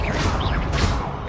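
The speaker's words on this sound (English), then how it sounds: "Confringo!" Confringo fire spell cast in the video game Hogwarts Legacy, a bright crackling whoosh with a burst that swells twice over a steady rumbling game backdrop.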